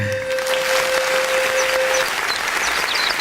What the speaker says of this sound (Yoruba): ẹ pàtẹ́wọ́ fólóòtú